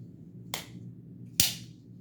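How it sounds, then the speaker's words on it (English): A Cold Steel SR1 heavy-duty folding knife blade snapping open into a strong lockup, two sharp metallic clicks about a second apart, the second louder and ringing briefly, close and alone. "that's the sound of a folding knife turning nearly into a fixed blade knife"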